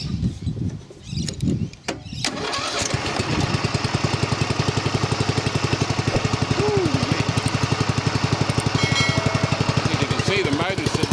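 A Greenfield ride-on mower engine cranks and catches after a couple of seconds of rough starting noise, then settles into a loud, close, steady rhythmic idle.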